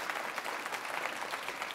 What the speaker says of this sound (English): That's worth a clap, I think, right?